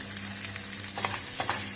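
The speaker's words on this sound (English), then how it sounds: "Now we are adding the Italian seasoning to our bacon as we fry it." Bacon strips frying in a pan with Italian seasoning, a steady close sizzle with a few louder crackles and stirring scrapes breaking through near the end.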